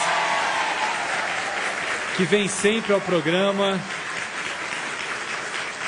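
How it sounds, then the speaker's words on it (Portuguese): A studio audience on a Canção Nova television programme applauds the teachers present, steady clapping continuing throughout while someone speaks over it. "E uma salva de palmas, eu sei que há muitos educadores aqui, aos nossos queridos professores"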